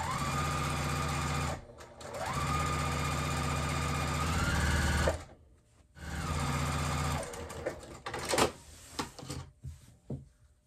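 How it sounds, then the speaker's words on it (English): A sewing machine stitches a baby quilt with batting, running in two steady whirring stretches of a few seconds each with a brief pause between, followed by scattered handling clicks and knocks. "when you're at the machine stitching it a little bit"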